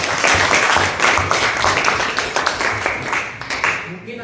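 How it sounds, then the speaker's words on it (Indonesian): An audience applauds during a presentation on artificial intelligence. The clapping is loud, close and sustained, a thick wash of many hands that goes on for about four seconds and loosens near the end. "Tepuk tangan dulu di sini."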